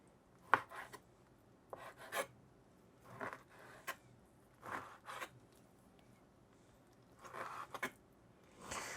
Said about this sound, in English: turn it around and go into slightly thin slices like that